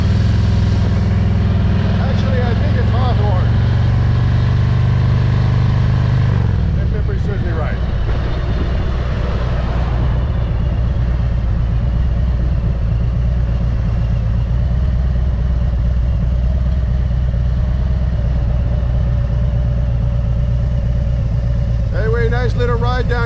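A ride through road traffic in Hawthorne, South Los Angeles, brings a loud, steady engine and road rumble with a low drone that shifts partway through, plus wind noise and passing vehicle sounds throughout.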